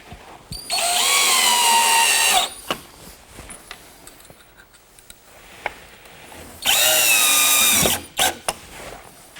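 Power drill driving pocket hole screws into a wooden shelf in two loud sustained bursts of a few seconds each, the motor pitch sliding as each screw seats, with clicks and knocks of handling between them.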